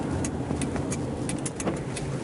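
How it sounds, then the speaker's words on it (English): Steady car interior road rumble while driving slowly in heavy traffic through roadworks, a continuous engine and tyre drone with faint clicks and no talking. "this is bad traffic."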